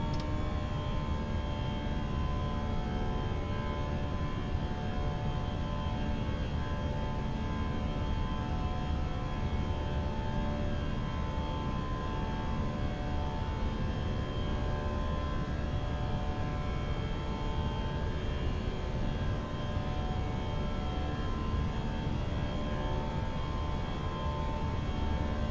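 Airbus A320 jet engines at climb thrust just after takeoff, heard from the cockpit as a steady, loud, unbroken roar with a faint whine that holds evenly throughout.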